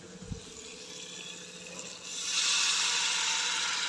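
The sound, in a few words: pouring a little water into a cooking pan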